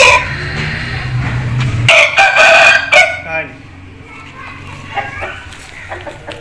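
An Aseel rooster crows loudly nearby, a strained rising call over background chatter and children's voices.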